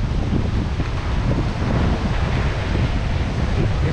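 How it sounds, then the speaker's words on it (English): Strong wind buffets the microphone in a constant low roar, loud and unbroken throughout, with a faint wash like surf underneath. "It's really windy"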